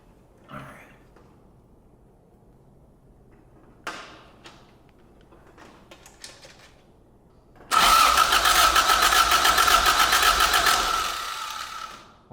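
A Toyota AE86 fitted with Weber carburetors cranks on its first startup: a few faint clicks and short rattles, then a loud, steady starter whir that runs for about four seconds before tailing off.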